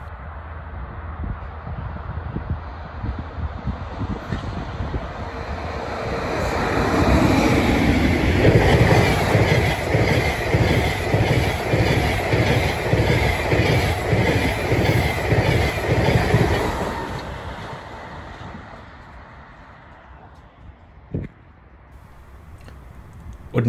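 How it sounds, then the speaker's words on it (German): Regional passenger train on the Kinzigtalbahn at a level crossing in Hailer-Meerholz, bound for Frankfurt, passing loudly for about ten seconds with rhythmic wheel clatter and a steady high crossing bell tone, then fading away. "Und hier kommt die Regionalbahn zurück, die in Wächtersbach gewendet hat und jetzt wieder nach Frankfurt fährt."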